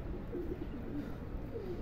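Pigeons coo softly on a rooftop, faint and somewhat distant over a steady low background hum.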